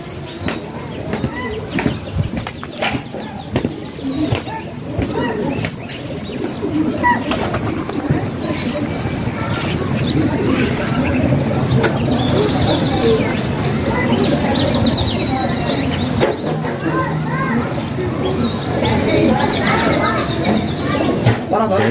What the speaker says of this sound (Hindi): ये कबूतर सर पे पहुंच चुके हैं आपके सामने